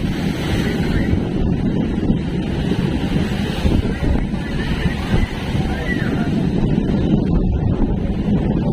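Rough sea with high waves and strong gusting wind around a small boat out on open water, a steady loud wash of surf and wind buffeting the microphone throughout, with no clear talk.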